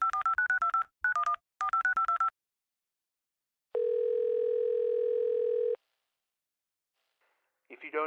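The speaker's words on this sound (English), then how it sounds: "Dial it again." A telephone being dialed, with a quick series of clipped touch-tone beeps in three groups, then a steady dial tone held for about two seconds, followed by silence and a faint electronic chirp at the end.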